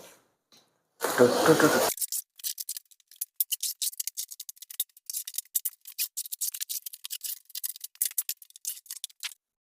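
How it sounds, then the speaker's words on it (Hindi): Cutting packing tape on a wooden almirah box during unboxing: a brief burst of tearing, then a long run of crisp, rapid scissor-like snips and scratches, close and fairly quiet. "तो चारों तरफ की टेपिंग फटाफट से मैं काट लेता हूँ।"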